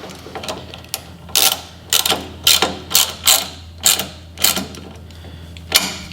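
Ratchet tightening bolts on a Crazy Cart XL electric drift kart, a series of about eight short, close ratcheting bursts in an uneven rhythm, standing alone without talk.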